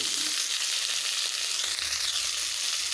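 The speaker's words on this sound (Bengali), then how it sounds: "ফোড়নটা আমার ভালোভাবে ভেজে নেওয়া হয়ে গেছে এবারে দিয়ে দেব আলু কাঁঠাল" Potato and jackfruit pieces hit hot oil with fried whole cumin seeds in a Bengali curry pan, giving a steady, close, hissing sizzle that runs evenly throughout with no talking.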